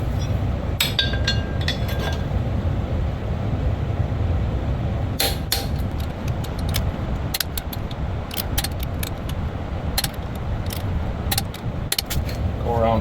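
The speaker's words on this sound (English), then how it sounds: "Turn the torque wrench up." Torque wrench tightening bolts in a star pattern on a Ford Ranger fitted with an OM603 diesel engine, giving repeated sharp metallic clicks and clinks over a steady background hum.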